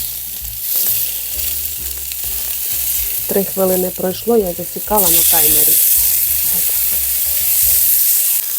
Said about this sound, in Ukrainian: котлетки смажаться